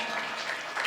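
Brief burst of audience applause at a kirtan, a dense wash of clapping heard at a moderate distance, continuous for under a second.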